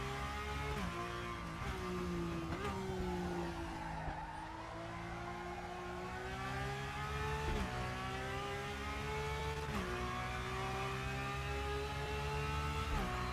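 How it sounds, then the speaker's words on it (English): Porsche 911 GT3 Cup racing engine in the RaceRoom sim, revving up through gears with rising pitch sweeps, shifting and lifting on braking, plus tire squeal, steady and fairly quiet throughout. "that's the Porsche 911 GT3 Cup in RaceRoom"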